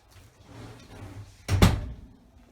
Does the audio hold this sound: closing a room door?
yes